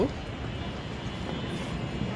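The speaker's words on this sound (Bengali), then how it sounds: "আমরা ট্রেনের শব্দ শুনতে পাচ্ছি" A train rumbles past in a continuous, heavy roar that fills the whole moment, close and steady.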